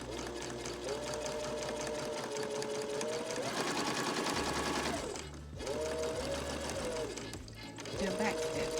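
A sewing machine stitches fabric for a pillowcase shirt in a steady rapid whir, stopping briefly and restarting several times, with faint low mechanical thumps underneath and no talking.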